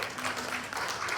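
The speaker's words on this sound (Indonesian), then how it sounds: "Tepuk tangan dulu untuk Sigi." Audience applause breaks out at a provincial sports council working meeting in Central Sulawesi, a steady broadband patter lasting about a second with faint voices mixed in.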